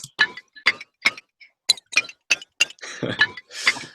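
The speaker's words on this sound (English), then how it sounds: "basically some tiny plate sounds" A series of tiny, bright metallic clinks from a processed tiny-plate sound sample, about ten sharp hits spaced irregularly, ringing briefly in quiet between them.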